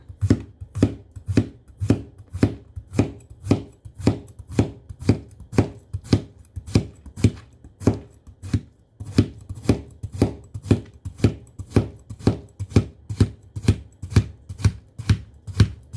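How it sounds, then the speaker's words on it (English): A knife slicing a cucumber on a cutting board: fast, even chopping strokes, roughly three a second, close and crisp, continuing steadily with one short pause and no talk. "So we've got this cucumber looking like this. So you cut the ends off, and then you slice it."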